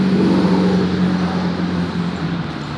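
A truck passes on a road in New Philadelphia, Ohio, heard as a loud, steady low engine drone and tire roar that fills the whole moment and eases slightly toward the end, with no voices over it.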